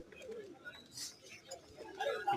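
Pet pigeons, including Pakistani Danish and Jacobin breeds, coo softly in low throaty murmurs, faint and close, with a few higher chirps and a voice speaking over them.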